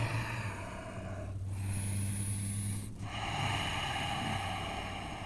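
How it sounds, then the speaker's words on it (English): Slow, deep Ujjayi yoga breathing with a hushed, ocean-like rush on each breath, close and steady, with no talking. "That big breathing that you hear is called Ujjayi breath"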